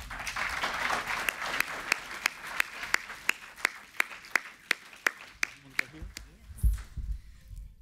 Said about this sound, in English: So give a round of applause here for Ms. Jane.